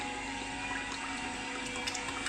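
Oil poured into a storage container in a home kitchen during okra soup cooking, a steady liquid stream with a faint trickle, close and continuous, with no talking.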